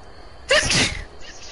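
A single sharp sneeze bursts out close to the microphone, loud and brief, then fades into quiet room noise.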